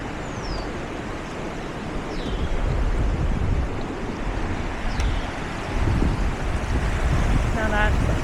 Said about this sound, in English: Now that's a fast-moving river.